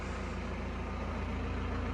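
A seed drill with its vacuum fan and motors running on a farm produces a steady, dense, loud mechanical drone that holds evenly throughout with no pauses, and no voices are heard.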